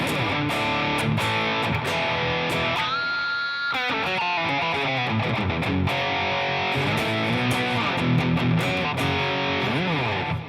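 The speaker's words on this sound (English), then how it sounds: "I've also been experimenting with the old faithful rat pedal here" Electric guitar played through a Rat distortion pedal: a thick, saturated tone with sustained chords, bends and sliding notes, then choppy strummed and picked phrases, close and loud, without any talking.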